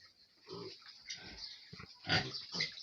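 Pigs in farm pens grunting and squealing close by, several uneven bursts of snorts and squeals rising and falling, with a louder squeal toward the end.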